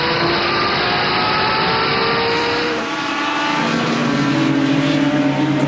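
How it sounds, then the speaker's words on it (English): A race car engine roars from the onboard view of a 2010 World Challenge race at Watkins Glen, a loud, steady drone whose pitch drops and climbs again midway as the car pulls away. "And then from inside the car, Ron Fellows getting started finally"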